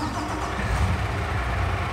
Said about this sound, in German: Wir starten den Motor